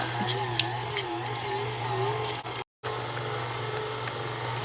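Electric stand mixer beating three sticks of butter with eight ounces of cream cheese in a home kitchen, a steady motor whine with a low hum throughout, briefly cutting out near the middle before resuming.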